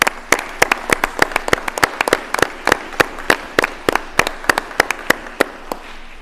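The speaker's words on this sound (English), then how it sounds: "You deserve another round of applause" An audience at a school board meeting gives a round of applause, with dense, steady clapping and sharp individual claps standing out over the continuous patter, held at even loudness throughout with no voices.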